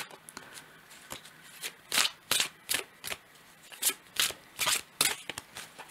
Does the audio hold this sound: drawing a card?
yes